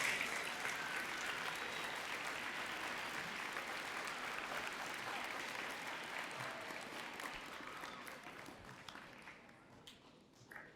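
Sustained audience applause at a middle school ribbon cutting ceremony, a dense wash of many hands clapping that carries on for about ten seconds and slowly thins toward the end.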